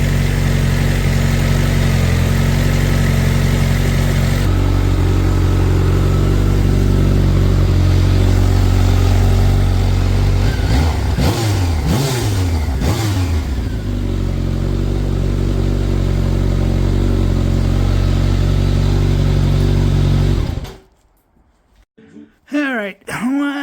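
A Honda CBR 1100XX Blackbird motorcycle engine runs hot with its cooling fan on, a loud, close, steady idle drone with a short rev in the middle, then cuts out near the end.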